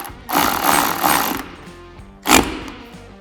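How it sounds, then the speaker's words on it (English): A power tool ratchets in two loud bursts, the first longer, then a short one, as windshield hinge bracket bolts are tightened on a Polaris Xpedition side-by-side. "So just go ahead and tighten those down completely,"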